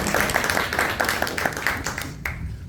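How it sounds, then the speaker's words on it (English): A small audience at a period-health summit claps for a doctor who has just spoken, a close, brisk patter of applause that continues for about two seconds and then tapers off. "Let's give the good doctor a big round of applause"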